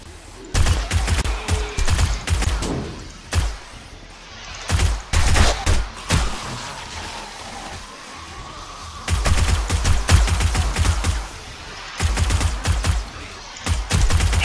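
Guns fire at zombies in the survival video game 7 Days to Die, in repeated rapid bursts of sharp, loud shots separated by short pauses.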